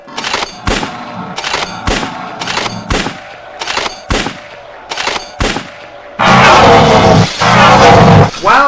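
Rapid bursts of gunfire from a volley of five rounds aimed at a giant daffodil in a sci-fi audio drama, sharp repeated cracks over roughly six seconds followed by a dense, loud roaring barrage.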